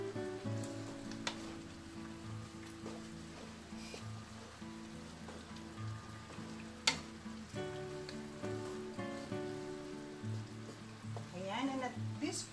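Carbonara sauce cooking in a pan, with a steady soft sizzle and bubbling under gentle scraping and stirring, a few sharp clinks of the utensil against the pan, and a low background hum throughout.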